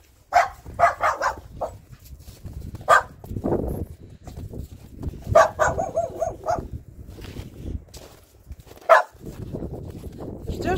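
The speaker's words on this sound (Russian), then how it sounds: "Услышала меня, гавкает." A dog barks in several short bursts, close and loud, with pauses between the barks and some whimpering.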